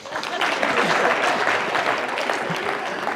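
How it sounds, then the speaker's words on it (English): A sales conference audience claps hands loudly and continuously in a hall, a dense close wash of applause with faint voices mixed in. "Clap hands for my mom."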